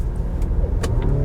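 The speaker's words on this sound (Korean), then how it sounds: "내가 액셀러레이터를 밟잖아요" A Volvo XC60 T8 AWD plug-in hybrid accelerating with a steady, subdued engine and road rumble heard from inside the cabin, plus a few faint clicks.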